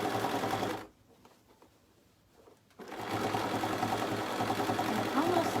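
An embroidery sewing machine stitches binding under the presser foot with a dense, rapid mechanical whirr, stopping for about two seconds before resuming steadily and loudly.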